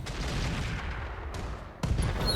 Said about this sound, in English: I think Khmer will drop a couple of high explosive artillery rounds right on top of the commando